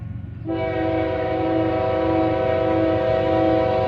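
Horn of a mixed freight train at Deshler sounds loud and steady from about half a second on, a sustained multi-tone blast over the continuous rumble of the passing train, with no talk.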